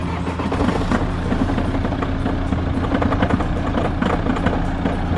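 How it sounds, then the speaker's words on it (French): A car with snow chains driving on snow near Val Thorens, giving a loud, steady engine drone with a rough, rattling texture and an odd noise throughout, no talking. "la voiture a fait un drôle de bruit"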